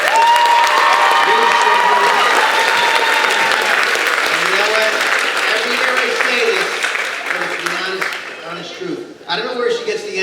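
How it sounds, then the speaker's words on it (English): Audience at a school spring concert applauding a staff member, Ms. Shivers, with loud sustained clapping and cheering under voices and shouts, tapering toward the end with a brief dip before a final burst. "Let's give her a nice round of applause."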